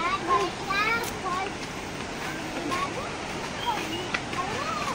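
Sathodi waterfall makes a steady, broad rush of falling water that runs the whole time, with children's voices and chatter heard over it.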